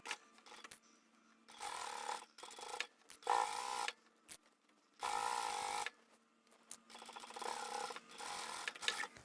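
A sewing machine stitches together bag lining and outer fabric layers in several separate runs of rapid whirring, starting and stopping with quiet gaps between, close but soft.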